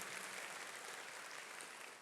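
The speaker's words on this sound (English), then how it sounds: "Can we give a round of applause to the Hope Fellowship team for putting this on?" Conference audience claps in a continuous, even burst of applause, faint and distant in the room.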